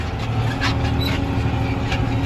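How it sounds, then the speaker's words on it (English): Squeaky tractor driving through an alfalfa hayfield, heard from inside the cab; a loud continuous engine drone with faint intermittent squeaks over it, no talk during the clip. "Yeah, we're back in the squeaky tractor."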